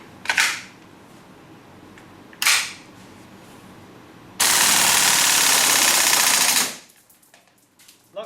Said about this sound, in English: now we refill the .2 BB bullet and the green gas and test the full auto mode